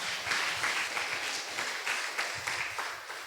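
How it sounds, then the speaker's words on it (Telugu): Congregation at a Sunday church service clapping together in praise, a steady rhythmic communal beat at moderate distance, no one speaking over it. "అందరం ఒకసారి చప్పట్లు కూడా దేవుని స్తుతిస్తారా?"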